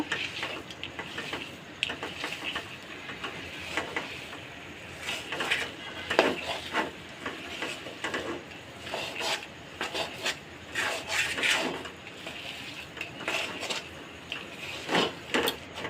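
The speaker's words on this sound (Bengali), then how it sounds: "এখন ঘিয়ের সাথে এটা আমি ভালোভাবে মিশিয়ে নেব" Wheat flour being stirred into ghee in a pan with a spoon, a steady stream of close scraping and rasping strokes in uneven rhythm, with no talking.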